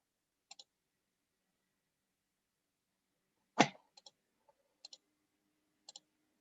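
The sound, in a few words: computer mouse clicking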